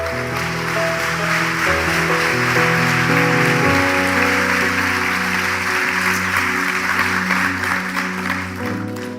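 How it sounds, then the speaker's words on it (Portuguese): Church congregation claps loudly and steadily, a dense wash of applause over sustained keyboard chords that continues evenly for about nine seconds. "Aplauda Ele em nome de Jesus."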